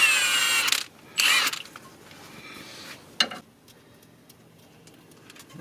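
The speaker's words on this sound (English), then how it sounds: "Just remove all the bolts." A ratchet loosens the rear differential cover bolts on a 1999 Ford Explorer. Close, crisp clicking comes in two quick bursts and then a single short one, followed by a quiet pause.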